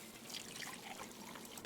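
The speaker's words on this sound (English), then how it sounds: "The canteens have been topped off." Water pours and trickles into a canteen at a clean water source in the post-apocalyptic game Wasteland 2, a steady splashing fill heard up close with no voices over it.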